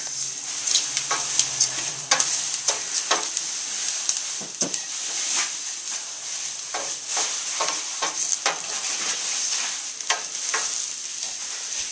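Rice for Spanish rice frying in a pan, a steady bright sizzle and hiss with frequent stirring scrapes of a utensil, close and constant.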